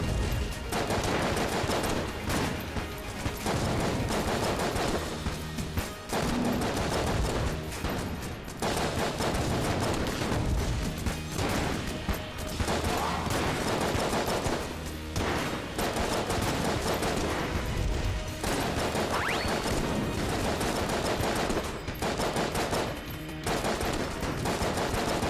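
Nonstop gunfire blasts through a bout of Enter the Gungeon, dense rapid shots and bursts stacking loudly for the whole stretch with barely a pause.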